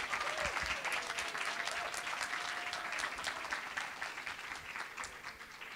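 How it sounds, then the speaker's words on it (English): An audience claps steadily through a student exemplary awards ceremony at TCC NE, sustained loud applause for the award recipients with no voices over it, gradually tapering slightly toward the end. "Let's give all our recipients a great round of applause."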